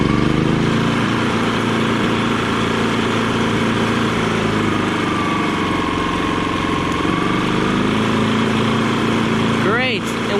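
A Kipor generator, one that had stopped making power, runs steadily with a loud, close, continuous engine hum and no talking over it.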